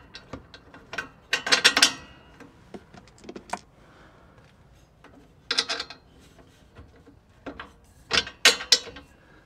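Factory nuts are threaded onto bolts while fitting an ETS exhaust to a 2022 Subaru WRX, heard as three bursts of rapid metallic ratcheting clicks separated by quiet pauses.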